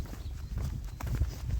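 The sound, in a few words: horses' hooves clip-clopping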